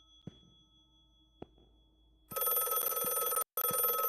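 A telephone rings in the video game The Last Case of John Morley: faint isolated clicks, then a loud, steady electronic ring bursting in and continuing with a short break.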